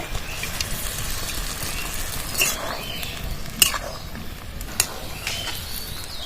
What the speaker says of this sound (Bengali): ভাজা ফ্রাই করা ভেন্ডিগুলো ঢেলে দিয়ে দেবো এই গ্রেভিটার মধ্যে